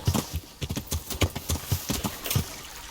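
A game horse gallops in a fast, steady rhythm, its hoofbeats loud and close, with a faint layer of ambient game sound behind them and no talking.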